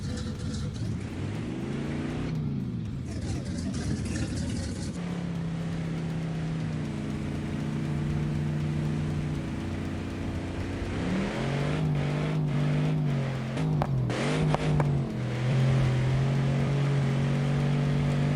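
Engine of an off-road rock bouncer buggy in BeamNG Drive, a steady droning motor that rises and falls with revs while crawling over rocks, close and continuous throughout with no talk.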